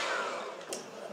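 Electric mixer whirring steadily through cupcake batter as a whole egg is worked in for red velvet cupcakes, a close, continuous buzzing hum.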